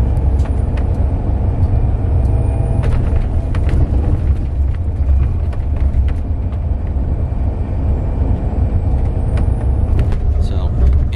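Steady loud low rumble of a moving coach bus heard from inside on a commuter run to Yuba City, with scattered rattles and clicks over the engine and road noise.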